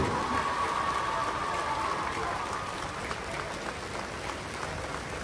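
Applause fills the Eden Gardens stands during a ceremony, a dense, steady patter of many hands clapping at a distance, with a faint voice briefly under it at the start.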